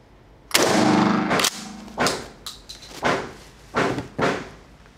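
A Mossberg 590 Retrograde pump shotgun with a 20-inch barrel fires Federal 00 buckshot with a flight control wad, one loud blast followed by several sharp cracks and bangs spaced about a second apart.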